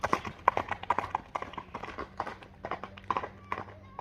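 A horse's hooves clip-clop steadily on the ground at a quick, rhythmic pace at a livestock market, close and clear throughout, with faint voices in the background.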